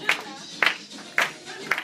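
Hands clap at a party in four separate, sharp bursts spaced about half a second apart, with some background chatter between them.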